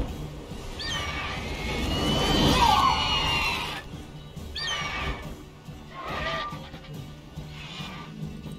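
A horse in the fantasy game The Witcher 3 gives a long, loud whinny, then two shorter neighs follow with pauses between, set against a faint background ambience.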